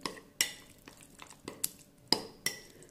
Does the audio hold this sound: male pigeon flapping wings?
no